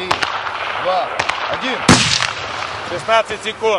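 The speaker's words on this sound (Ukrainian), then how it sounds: "Снайперські пари мають на 100-метровій відстані вразити терориста, який захопив заручника. Постріл обидва бійці повинні зробити одночасно." Two sniper rifles are fired together at a target 100 metres away, giving one sharp, loud crack at close range, with voices talking before and after it.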